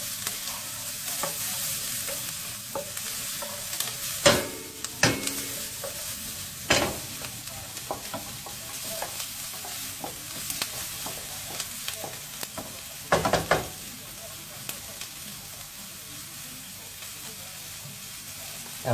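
Onion softens in a pan ahead of a cauliflower risotto, giving a quiet, continuous sizzle with occasional louder crackles and clatters of a utensil stirring, no talk over it.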